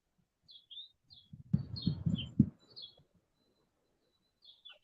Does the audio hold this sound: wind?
no